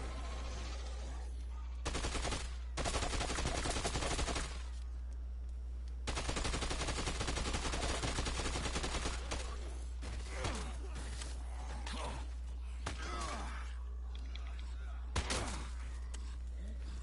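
Assault rifle fire in Dead Rising 2 comes in several loud sustained bursts separated by short gaps, with shorter shots, clanks and game noise in between.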